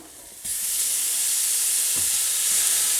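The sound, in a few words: ground meat sizzling as it is added to a large pot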